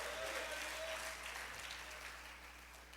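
Applause from a church congregation fills the space, a sustained patter of many hands that slowly fades toward the end.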